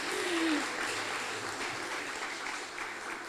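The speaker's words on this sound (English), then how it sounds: "let me hear you give a round of applause for our sponsors so the judges can know." Applause from the audience at a secondary school debating competition, steady broadband clapping throughout, moderately loud and fairly even, with a brief voice at the very beginning.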